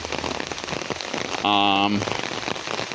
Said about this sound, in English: I want to get some rain on the phone